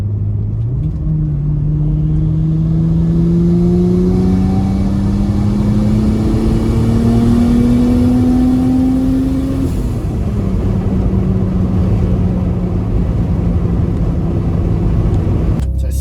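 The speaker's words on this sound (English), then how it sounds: "Launch control sounds sick." A turbocharged Mercedes 3.2L M104 engine running on a dyno. It revs hard and loud, climbing steadily for several seconds, then drops back to a rough, rumbling idle.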